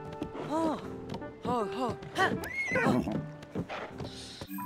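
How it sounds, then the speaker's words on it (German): A horse in The Legend of Zelda: Tears of the Kingdom whinnies loudly several times in a row, with clopping hooves mixed in between the calls. "Aber immerhin haben wir ein Pferd."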